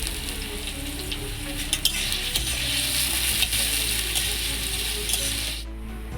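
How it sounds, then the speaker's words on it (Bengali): Potatoes frying in a pan, a steady dense sizzle throughout with occasional sharp scrapes and clicks of a utensil against the pan, close up and no talking. "আলুগুলো একটু লাল করে ভেজে নেবো"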